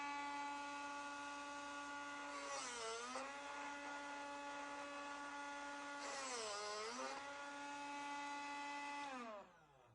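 A steady motorized whine of a Drill Doctor drill bit sharpener splitting the point of a drill bit, its pitch dipping twice as the bit is worked, then winding down at the end.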